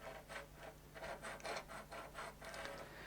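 Close, quiet repeated scraping from a tramming tool dragging against a CNC spoilboard as the spindle is turned by hand, rising in short rhythmic rubs about twice a second over a low steady hum.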